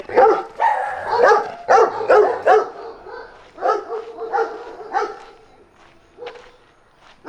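Loud, close dog barking on a neighborhood street in a developing part of Bucerías, coming in repeated bursts of several barks with short pauses, fading somewhat toward the end.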